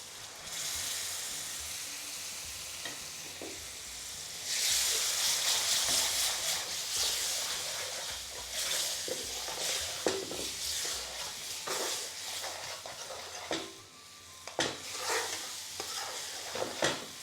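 Lamb curry sizzles in a pan as a ladle of base gravy cooks with tomato paste, making a steady close frying hiss with stirring scrapes and clinks and no talk.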